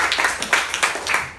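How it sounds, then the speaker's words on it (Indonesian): Brief applause in a school classroom after a class agreement, quick overlapping claps from a group of students, lively and close for just over a second. "tepuk tangan untuk kita semua."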